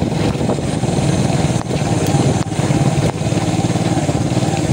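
A Yamaha YTX 125 motorcycle rides along a slippery, rough, rain-wet road, its engine a steady, loud, close drone with slight dips in pitch and level throughout.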